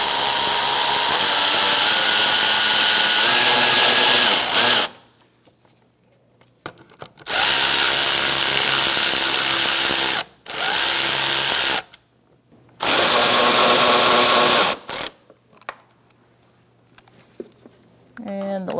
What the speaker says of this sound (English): Once you get it lined up, you can tighten down your bolts.